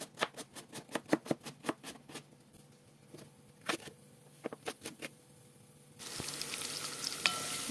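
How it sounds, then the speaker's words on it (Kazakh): Crackling, popping sizzles of vegetables frying in a pan, sharp bursts at first, then sparser, ending in a steady hiss. "Көкөністеріміз қуырылды."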